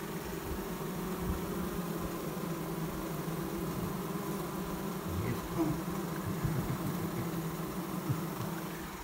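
Bees droning steadily throughout an old basement workshop left untouched for years, where abandoned hives once stood; a dense, close, even buzz with no talk.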